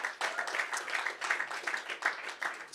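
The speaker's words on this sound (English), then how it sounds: "Another round of applause." Audience applause at a Bitcoin hackathon finalist presentation event, a continuous patter of clapping hands across the whole span, moderately loud and somewhat roomy, with no talking over it.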